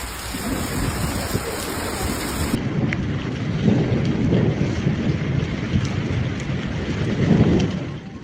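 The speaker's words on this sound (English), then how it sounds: "Intense lightning and heavy rain combined, creating a dramatic and unsettling atmosphere over the city." Heavy rain pours steadily during a night thunderstorm over a city in Algeria, with rolling thunder rumbling beneath the dense, constant downpour and some wind, loud and close throughout.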